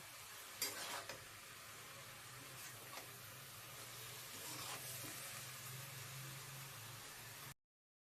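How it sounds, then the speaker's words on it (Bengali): Shredded cabbage stirred with spices in a pan, a continuous soft sizzle with a few scraping stirs near the start, faint and even until it cuts off abruptly. "ভালো করে বাঁধাকপির সাথে আমি মশলাগুলোকে মিশিয়ে নেবো"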